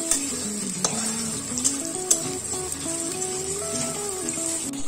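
Finely chopped onions fry in hot oil for mutton korma, a steady close sizzle with occasional sharp clinks of a spoon stirring against the pot.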